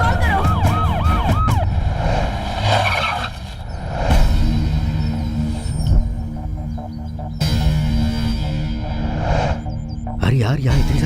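Police sirens wail as they arrive at a dramatic film scene, their rising and falling tones swelling at the start and again at the end beneath voices, music and background commotion.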